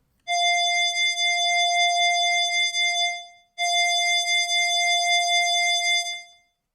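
Two sustained, bright synthesized FM chiptune notes with a ringy, bell-like harmonic tone, each held for about three seconds with a short gap between them, loud and clean with no talking.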